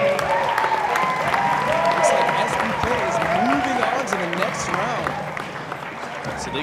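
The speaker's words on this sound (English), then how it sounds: "Give a round of applause for SPK." Applause from a crowd at the 2014 North American Parkour Championships freestyle battles runs steadily throughout, mixed with crowd noise and overlapping chatter and voices.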